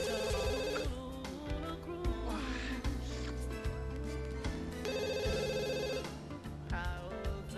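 A telephone rings in The Sims 2 video game, its repeated electronic ring bursts sounding over a busy game music bed, with no talk.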